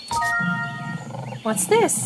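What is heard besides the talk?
lion roaring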